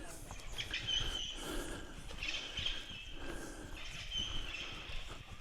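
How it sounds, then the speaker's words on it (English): Birds chirp and call energetically outdoors at a riverside camping spot in cool weather, their bright calls rising and falling repeatedly over steady background noise, fairly close. "I'm guessing you guys can hear all those birds going ballistic."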